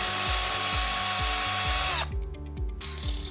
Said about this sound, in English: Drill a hole in the handle.